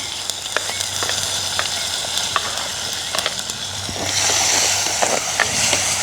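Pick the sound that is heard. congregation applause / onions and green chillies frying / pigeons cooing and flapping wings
onions and green chillies frying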